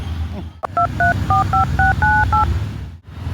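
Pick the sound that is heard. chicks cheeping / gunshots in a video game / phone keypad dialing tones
phone keypad dialing tones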